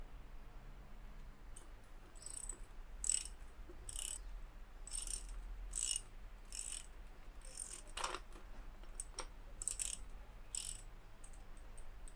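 A bottom bracket wrench turns the left-side cup of a square-taper bicycle bottom bracket anticlockwise to remove it, giving scattered metallic clicks and ratchet-like ticks at moderate loudness over a quiet background.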